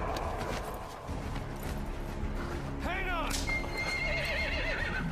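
A horse in the video game Metal Gear Solid V lets out a loud, wavering whinny partway through, over a busy bed of game noise and music.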